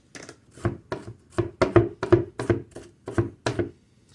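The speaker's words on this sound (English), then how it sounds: "is chop up some onions" A sharp kitchen knife chopping onions on a cutting board for wagyu beef sliders, about a dozen quick close thuds in an uneven rhythm.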